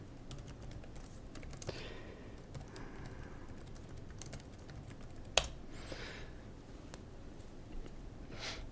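Fingers typing a command on a computer keyboard, a quiet run of rapid light key clicks with a sharper tap partway through, close but soft over faint room hiss, with no speech.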